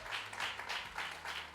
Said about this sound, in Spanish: Un aplauso para los jóvenes que trabajaron toda la semana.